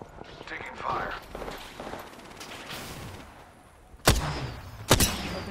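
Gunfire in the video game Apex Legends, scattered shots and bursts under game voice lines, closing with two sharp, loud close-range cracks near the end.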